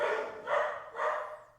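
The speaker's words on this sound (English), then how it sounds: "my dogs are barking" Dogs bark indoors, three loud, close barks spaced evenly about half a second apart, alone without talk.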